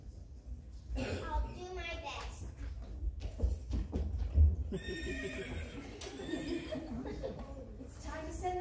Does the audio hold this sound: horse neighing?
yes